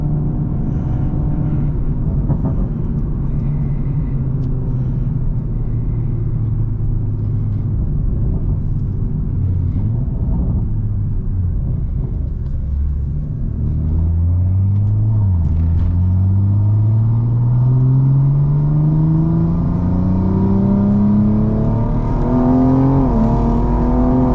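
A 700 whp BMW M340i engine pulls hard under acceleration while driving, a loud, steady drivetrain rumble with rising tone as revs climb through the second half, no speech over it.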